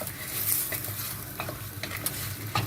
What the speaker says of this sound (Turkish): şimdi haşladığımız barbunyamız güzelce harmanlıyoruz